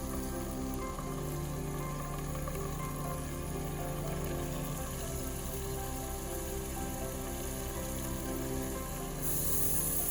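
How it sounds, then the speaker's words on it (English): Salmon searing in hot oil in a pan for coconut milk salmon curry: a loud, continuous dense sizzle and crackle, close up and steady throughout with no talking. "When the oil is hot, we're gonna add the salmon."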